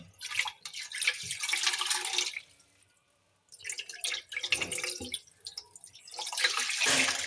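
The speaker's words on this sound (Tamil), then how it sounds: "இப்போ அந்த கவர் வச்சதுக்கப்புறம் நம்ம இப்போ ஜெக்கில் தண்ணி மட்டும் ஊற்றிக்கலாம்." Water poured from a jug into a fish tank onto a floating cover, splashing in two close rushing pours separated by a brief quiet pause, then starting again.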